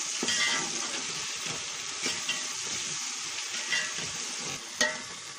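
Chana and spices roast in a pan for pulao while being stirred, producing a continuous close crackling sizzle with occasional scrapes and a sharp utensil knock near the end, no voices.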